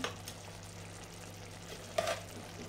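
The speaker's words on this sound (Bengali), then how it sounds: "এবার আমি এর মধ্যে রাইসগুলো দিয়ে দিচ্ছি।" Cooked rice goes into simmering gravy in a pot for a duck egg biryani, a soft continuous sizzle with a short clatter at the start and a louder scrape and thump near the end.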